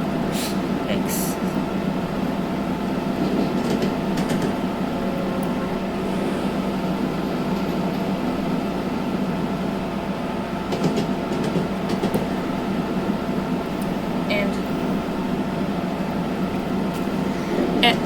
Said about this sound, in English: this is how the locomotives pick up a lot of speed